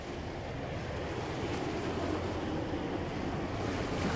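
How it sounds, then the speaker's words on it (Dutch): Waves slap and water laps against boats in Venice, forming a soft, continuous wash with a faint rumble underneath, fairly distant and low in level, with no voices. "de golven die erop slaan en het geluid van de boten en het geluid van het klotsende water"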